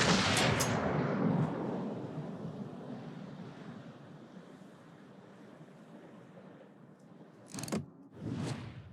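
Battleship turret guns fire in World of Warships, a heavy booming blast at the start that rolls into a long fading rumble, followed by two more bursts near the end.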